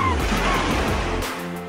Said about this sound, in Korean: 해운대, 광안리 등 바다가 인접한 지하철 역사에선 안내방송에서 갈매기 소리와 파도 소리도 들을 수 있습니다